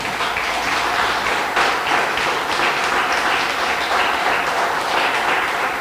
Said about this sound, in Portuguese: dê uma linda salva de palmas para o Senhor Jesus